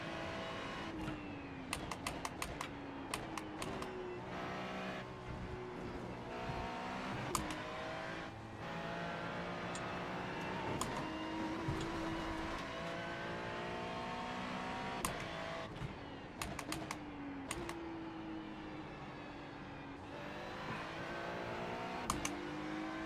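A race car driven in the iRacing simulator at Spa during a 24-hour endurance race, its engine droning steadily and loud throughout, with rising and falling revs, gear shifts and brief sharp clicks over the top.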